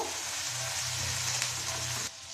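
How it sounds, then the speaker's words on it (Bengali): A pan of onion and garlic paste mixed with other ingredients fries with a dense, bright sizzle, steady and close, with faint stirring underneath before the hiss drops off abruptly near the end; no talking. "এর মধ্যে দিয়ে দেবো পেঁয়াজ আর রসুন বাটা সব কিছুকে খুব ভালোভাবে মিশিয়ে নেব"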